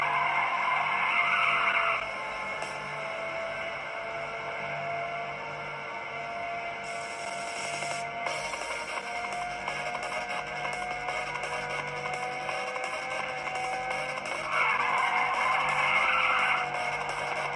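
A car drifts in a PSP racing game, its tires squealing in long sustained skids over a steady engine drone, with the loudest screeches at the start and end.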